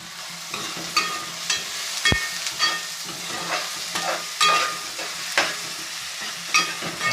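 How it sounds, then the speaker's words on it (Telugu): Onions fry in a pan for a fish curry, giving a steady close sizzle broken by repeated scraping stirs and one sharp knock of utensil on the pan, with no voices. "ఉల్లిపాయలు ఉడుకుతుందండి ఇప్పుడు ఉల్లిపాయలు వేగిన తెలియదు చూసుకోండి"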